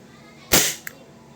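A WE G34 gas blowback airsoft pistol with an upgraded chamber set fires a single 0.2 gram BB: one sharp, loud crack right at the microphone, then a brief faint click.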